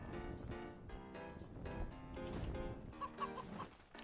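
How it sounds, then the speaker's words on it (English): Chickens cluck repeatedly in the Enshrouded video game, several birds overlapping in a steady stream of fowl calls, with no voices over them. "There's chickens."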